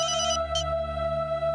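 A telephone rings in a Hindi TV serial scene, a steady electronic ringtone tone with short warbling bursts, loud and alone.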